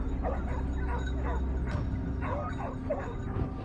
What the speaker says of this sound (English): The hounds were unleashed, their frantic bark signaling the start of the hunt.